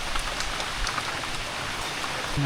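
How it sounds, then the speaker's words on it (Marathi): Steady rain falling in a Konkan forest during the monsoon season, a dense continuous patter of drops that holds even throughout, with no voices. "पावसाने बघा सुरुवात केली परत"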